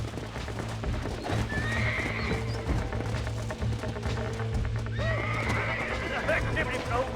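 A horse whinnies loudly over steady galloping hoofbeats in the video game Red Dead Redemption, with a low rumbling background and a second neigh near the end.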